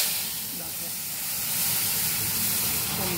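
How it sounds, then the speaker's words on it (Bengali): Dal poured into a hot pan with five-spice tempering, giving a steady, loud hissing sizzle that builds and holds throughout, with faint background talk. "এবার দিয়ে দেবো ডালটা, আমি ঢেলে দেবো।"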